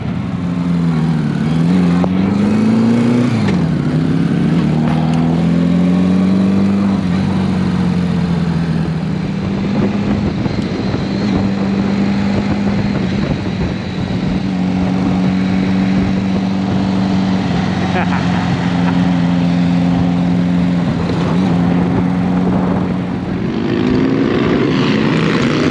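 1980 Honda Goldwing GL1100 motorcycle riding on new tires after a carburetor rebuild, a loud continuous engine drone with rising and falling revs through gear changes, plus steady wind rush, heard close from the rider's position.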